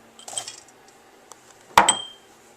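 Mulberries, cranberries, dried blueberries and sliced apricots tip into a pot of homemade granola mix, giving a brief soft rustle followed by one sharp, close clatter of fruit and utensil against the pan, then quiet.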